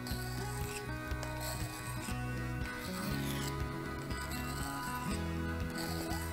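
Outdoor knife blade drawn repeatedly across the finer side of a sharpener, soft rasping strokes in an even rhythm, close and quiet, with a faint tonal hum underneath.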